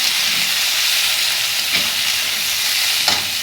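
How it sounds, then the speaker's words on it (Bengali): Chopped green tomatoes, green chillies and raw onion fry in hot oil and are stirred in a pan, a steady loud sizzle and hiss with faint scrapes of the spoon, no voices. "এইবার দিয়ে দিচ্ছি টমেটো, কাঁচা লঙ্কা আর কাঁচা পেঁয়াজ। এটা ভালো করে নাড়িয়ে নেব।"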